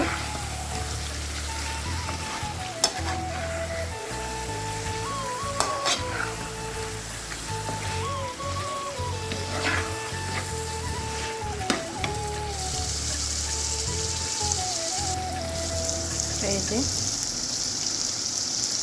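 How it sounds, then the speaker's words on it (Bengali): Mung dal tipped into a pan of cooking chicken sizzles and fries steadily while a spoon scrapes and stirs it in repeated strokes; a tonal hum of music runs underneath throughout. "মুগ ডাল দিয়ে দিলাম এখন ভালো করে মিশিয়ে নেব"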